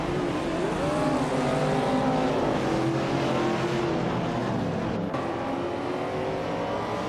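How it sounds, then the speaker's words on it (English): A 1979 BMW M1 Procar T race car at Enna Pergusa roars continuously at high revs, its engine note loud and sustained with rising and falling pitch sweeps as it accelerates through gears. "Leading the pack is Biobi Biolab in the pole position, driving a classic 1979 BMW M1 Procar T."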